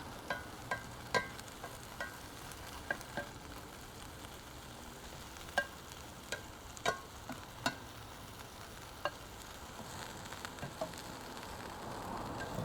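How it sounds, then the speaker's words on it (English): Chicken meatballs browning in a pan, a steady low sizzle with scattered sharp pops and clicks of being turned and rotated throughout, fairly quiet and with no one talking. "We might also rotate some meatballs from left to right. That way we make sure we're browning evenly."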